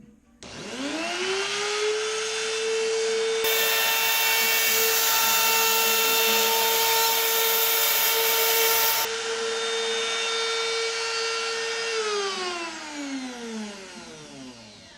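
A router fitted with a jig cuts a Futures fin box slot into a surfboard; the motor spins up to a loud, steady high whine, holds for about ten seconds with cutting noise, then winds down.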